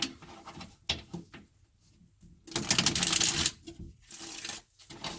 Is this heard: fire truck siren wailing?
no